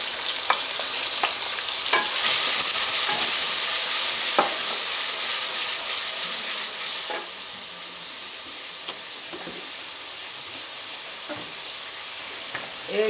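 Three finely chopped tomatoes fry in a pan for bhindi pyaz, a continuous close sizzle broken by repeated spoon clinks and scrapes from stirring, easing slightly in loudness toward the end.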